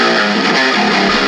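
Heavily distorted metalcore guitar riff played through a Metal 2 amp preset, dense and loud with saturated harmonics throughout, a short chugging phrase played alone without talk.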